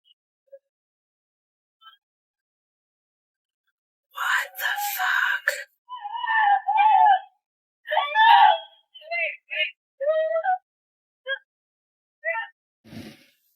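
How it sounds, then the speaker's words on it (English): A woman screams and wails in distress on a Seattle street, with several loud, ragged cries in bursts following near-silence, then shorter strained vocal outbursts. "you can hear her screaming as she limps around covered in blood like a zombie"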